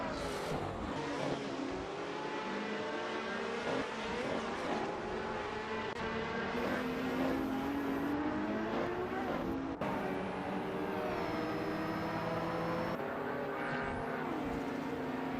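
Retro supercars race in an AI-driven racing simulator game, engines droning and shifting pitch continuously as several cars pass, with steady layered revving throughout and no speech.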